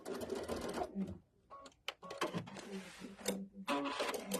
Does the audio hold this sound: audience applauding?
no